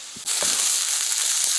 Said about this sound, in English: Fry pan, back on the fire. Steak next.